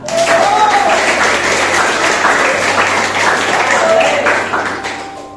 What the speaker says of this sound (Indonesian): Ya, kita tepuk tangan dulu biar semangat.